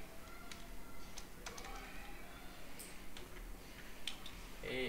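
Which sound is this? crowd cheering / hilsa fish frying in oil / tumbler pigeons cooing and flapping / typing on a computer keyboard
typing on a computer keyboard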